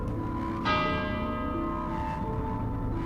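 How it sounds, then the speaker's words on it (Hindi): A single temple bell strikes with a bright metallic onset and rings on with a long, slowly fading hum over a steady low background. "एक पुराना टूटा हुआ मंदिर था जहां की घंटी हवा के बिना भी हिल रही थी।"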